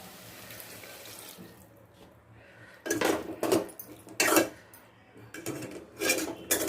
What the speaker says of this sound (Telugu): నేనైతే కొంచెం వాటర్ యాడ్ చేస్తున్నాను సూప్ కోసం.